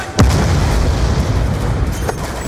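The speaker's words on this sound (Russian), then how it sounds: "Дефолка взрывает корабль!" A ship blows up in the Black Ops 2 shooter game, a sudden deep boom followed by a long rumbling roar that stays loud and fades slowly.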